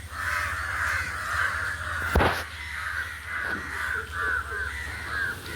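A flock of crows caws together in a loud, overlapping chorus of harsh calls, with one sharp nearby bang partway through.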